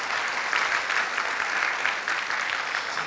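A church congregation claps steadily for the students at a Christmas Sunday service, a dense, continuous wash of applause filling the room for about three seconds with no voices over it.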